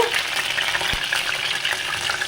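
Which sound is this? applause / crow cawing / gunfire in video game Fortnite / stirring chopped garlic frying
stirring chopped garlic frying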